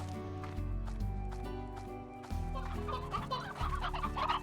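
Hens in the game Slime Rancher cluck steadily at close range over a low, droning background bed of sound, with the clucking busier and more excited toward the end. No talking.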